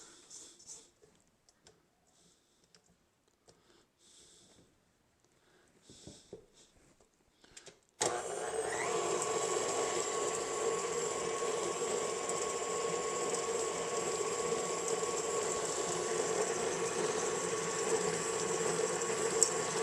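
An electric mixer beats butter and sugar in a bowl for oatmeal cookies, starting abruptly after quiet scraping and holding a steady, loud whirring drone with a faint ticking rattle.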